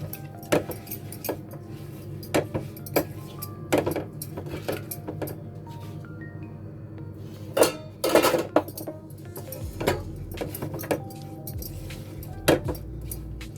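Dry fruits being stirred into mewa paag in a pan, with scattered metallic clinks and scrapes of a spoon against the pan over a low steady hum, a few louder clatters in the middle.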